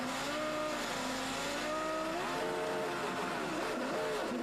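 Ralf Schumacher's Formula 1 car at the 2002 Belgian Grand Prix pulls out of the pits with a rough, ragged engine note that shifts pitch as it revs, loud and steady throughout with no talk.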